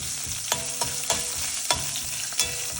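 Tempering sizzles in hot oil in a pan for an okra curry as asafoetida goes in. Steady frying hiss is broken by sharp spatula clacks against the pan at irregular intervals, up close with no talking.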